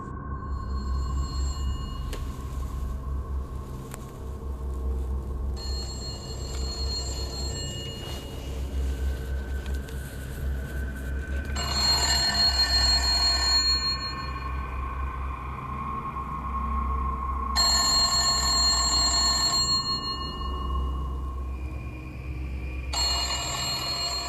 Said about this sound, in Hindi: दरअसल एक पुराना जंग लगा हुआ फ़ोन बज रहा होता है